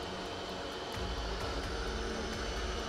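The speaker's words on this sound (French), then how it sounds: "Allez, il est parti pour faire le premier nettoyage. Alors, en termes de bruit, vous pouvez entendre, il n'est pas bruyant du tout." An Ultenic T10 robot vacuum and mop starts its first automatic cleaning, giving a steady, moderate whirring hum with a low motor drone that rises slightly after a second, close and without speech.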